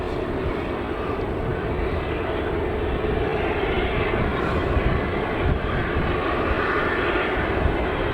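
A small regional airliner at Manchester Airport drones steadily with a loud, continuous engine roar that stays close throughout, with no other sounds.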